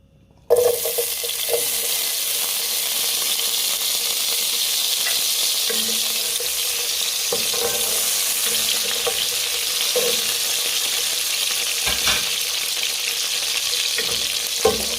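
Chopped onion frying in hot oil for a Nigerian yam and vegetable dish with ugba, a steady close sizzle that starts abruptly and runs on throughout, with occasional soft stirring clinks and no talking.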